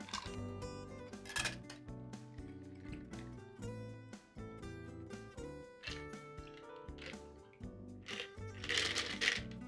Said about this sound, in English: we're gonna stir this for about 15 to 20 seconds to get it really diluted and cold